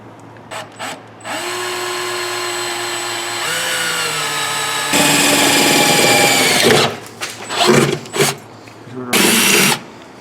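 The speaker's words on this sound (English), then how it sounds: "I'll go ahead and drill this out." A power drill boring holes for electric fan mounting brackets, whining loudly in sustained runs that rise in pitch as it bites, then stops and restarts in short bursts near the end.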